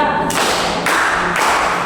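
Three loud, sharp bursts of children clapping together in a classroom counting clap game, each burst sustained briefly, close and evenly spaced.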